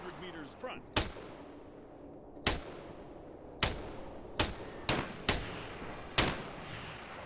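Single gunshots from a first-person shooter video game, about six sharp cracks fired one at a time at uneven intervals, each with a short echoing tail, loud against a quiet background.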